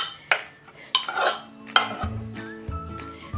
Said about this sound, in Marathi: हा आवळा किस आता एक मिनिटभर असा खालीवर करून घेऊया